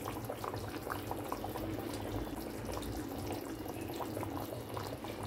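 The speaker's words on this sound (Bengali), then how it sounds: "একটা পিঠ হয়ে গেছে, হালকা মতো ফুটে গেছে ঝোলের মধ্যে।" Fish curry gravy bubbling steadily in a pan on the stove, a dense, continuous simmering hiss and pop that stays close and even throughout, with no talking.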